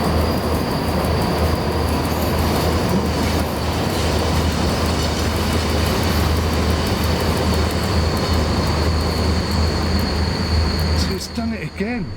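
Train running in the SimRail simulator, a loud continuous rumble with a steady high whine throughout, a brief horn-like tone near the end, and talk over it.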